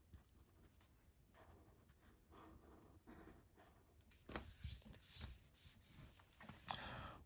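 A pen scratches faintly on paper in short, quiet strokes while a math problem is written out, with no talk.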